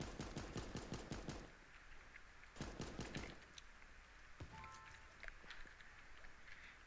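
Rapid bursts of AK rifle gunfire from the video game Super Animal Royale, loud close volleys of repeated shots in quick succession, separated by short pauses with scattered game effects.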